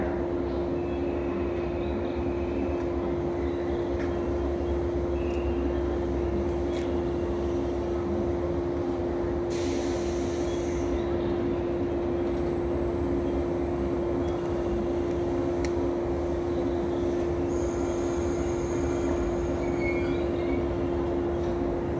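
A JR West 115 series local train departs Okayama Station, its steady low rumble and a constant electrical hum filling the platform throughout, with a few faint higher tones and clanks over the drone.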